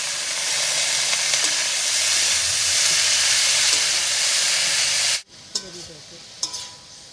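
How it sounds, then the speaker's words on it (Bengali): Banana flower is stirred over salted, turmeric-dusted fried potatoes in a pan, making a dense, steady sizzling hiss. The hiss cuts off sharply, and a few faint clinks and scrapes follow. "আলুর উপরে মোচাটা দিয়ে একটু নাড়িয়ে নিয়েছি"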